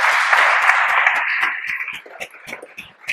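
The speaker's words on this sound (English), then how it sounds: "So can we give them a round of applause" Audience applause at a One Small Town presentation during a community event in Benenden, Kent: a dense, close burst of many hands clapping that thins out into scattered individual claps before fading.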